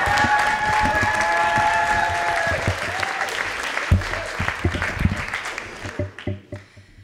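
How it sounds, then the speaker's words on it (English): Audience at a slam poetry competition in a library applauds and cheers loudly, the crowd noise gradually thinning into a few scattered claps before fading out, with voices mixed in. "And keep that applause going for our next poet Chelsea Meyer."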